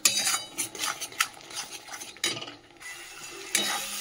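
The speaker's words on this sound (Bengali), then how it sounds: "চলো মশলাটা এবারে কষিয়ে নিই ভালো করে।" A spatula stirs and scrapes spice masala frying in oil in a pan, producing steady sizzling with rhythmic metallic scraping strokes close up, a brief pause partway through, and no talking.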